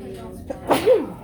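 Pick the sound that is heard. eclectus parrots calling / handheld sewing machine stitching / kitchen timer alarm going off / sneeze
sneeze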